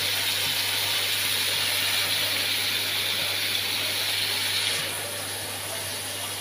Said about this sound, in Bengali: এই যে কালো জিরে ফোড়ন দিলাম